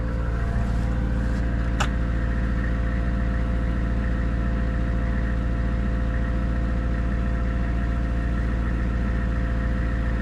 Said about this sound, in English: Oh man, it fired right up.